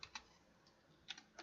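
A few scattered keystrokes on a newly bought computer keyboard, faint light clicks in two small clusters against quiet room noise.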